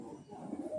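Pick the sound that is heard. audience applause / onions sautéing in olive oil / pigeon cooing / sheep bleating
pigeon cooing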